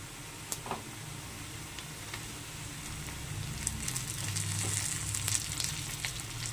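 Onions already fried golden in a pan, with tomatoes going in for an egg, potato and capsicum curry, sizzle in a steady, moderately loud crackle. Scattered ticks and pops sit over it, and no one speaks.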